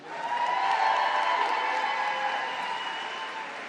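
An audience at a university fall commencement applauds graduating seniors of a sustainable resources management department, a steady, muffled wash of clapping and crowd noise heard from a distance.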